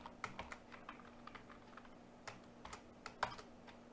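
Steady typing of code on a computer keyboard, a quick run of light key clicks at a close, quiet level with one sharper keystroke near the end and no talk.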